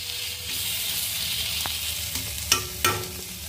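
Ridge gourd pieces are stirred in a pan with little oil, giving a soft, even sizzle broken by a few sharp spatula taps and scrapes toward the end.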